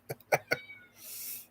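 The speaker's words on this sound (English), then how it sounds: "I'm sorry if you hear a cat in the background tonight." A cat gives a few short, clipped meows in quick succession nearby, followed by a soft hiss of background noise.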